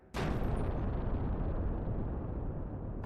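A sudden loud explosion in Kingdom Hearts 2, a sharp burst followed by a long sustained rumbling roar with no voices.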